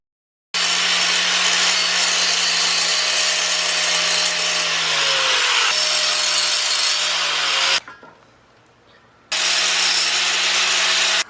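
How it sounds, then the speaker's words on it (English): Angle grinder cutting metal inside a Ford Econoline camper van conversion, a loud steady high whine running for several seconds, cutting out briefly, then starting again, with no talking. "This is the first time I used an angle grinder"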